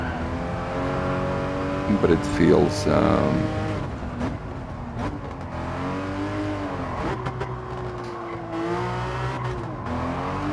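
A Porsche sports car in Gran Turismo 7 runs steadily at a sustained engine drone, pitch sliding up and down with gear changes, while someone talks over it throughout.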